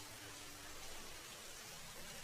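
Steady rain pours over a small hut during the rainy season, a dense, even hiss that stays loud and continuous throughout with no voices.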